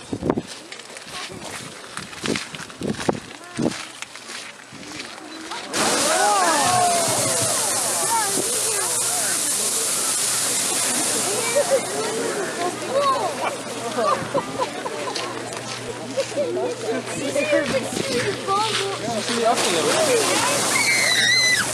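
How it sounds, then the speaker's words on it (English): A geyser erupting, hot water and steam bursting out: a sudden loud, sustained rushing and splashing roar that starts abruptly and continues steadily, preceded by softer scattered knocks and rustling. "Let me show you what it looks like when this geyser erupts."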